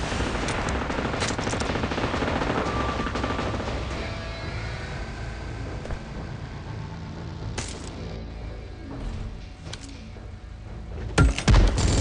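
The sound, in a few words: machine gun fire in video game PUBG Mobile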